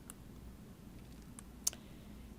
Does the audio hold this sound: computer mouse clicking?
yes